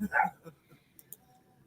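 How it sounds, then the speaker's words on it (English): A dog, a Dachshund among them, barks in a short burst at the start, then gives fainter yips and a couple of sharp sounds farther off. "You can hear them barking now."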